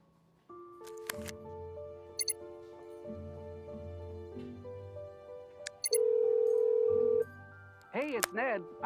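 A telephone rings in a Nancy Drew computer game, with short electronic tones and beeps, a sustained ring and warbling chirps over a quiet game soundtrack.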